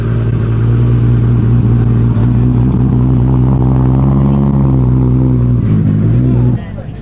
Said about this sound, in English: Got an inline six? Was that Supra?